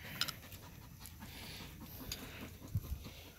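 A dog pants quietly and rhythmically outdoors on a farm during transplanting work, faint breaths repeating under low background noise.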